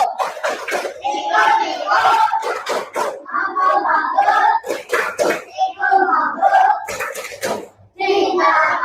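Children clap together in a quick, rhythmic clapping routine (Tepuk Cikumogu), close by, with young voices chanting along throughout.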